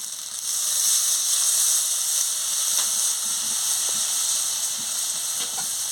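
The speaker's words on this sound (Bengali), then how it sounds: "আমি পরিমাণ মতন জলটা দিয়ে দিচ্ছি" Water is poured into a hot pan of sautéed pointed gourd with poppy seed paste, a loud continuous steamy hiss with a few faint clinks, no voices.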